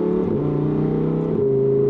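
Steady engine drone of a Lamborghini Huracan Tecnica cruising on the road, heard from inside the cabin as a smooth, constant hum with a slight shift in pitch partway through.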